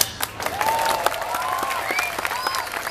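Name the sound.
audience applause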